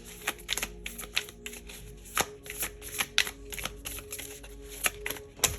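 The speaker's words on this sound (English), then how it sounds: "So let's pull you some spirit animal cards for Aquarius." A deck of spirit animal oracle cards is shuffled by hand, giving a steady run of soft riffling slaps and flutters at close range, with no talking.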